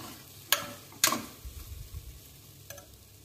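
Khichdi rice stirred in a pan: a few sharp spoon scrapes and knocks against the metal over a low, steady cooking murmur, fairly quiet with no talking.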